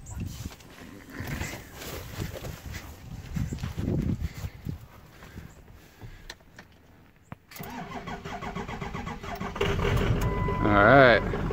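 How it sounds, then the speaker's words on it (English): A truck engine cranks and catches after hookup to a lithium jump starter, then settles into a rough idle that grows louder toward the end, with people talking throughout. "All right, truck number one started."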